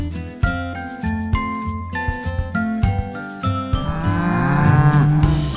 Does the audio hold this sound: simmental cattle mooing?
yes